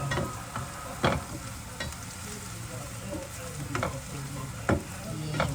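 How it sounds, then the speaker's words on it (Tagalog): Garlic browning in a frying pan for pork adobo, with a steady oil sizzle and stirring, plus a few sharp utensil scrapes and taps, with no talking. "I-brown natin po yung ating yung ating garlic"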